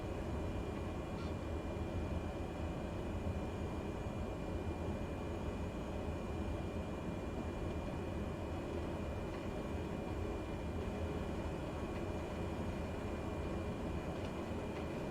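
A Cessna 208B in Microsoft Flight Simulator taxis too fast on a Norwegian airfield, its turboprop engine a steady, faint, low droning hum that holds without change throughout, with no talk.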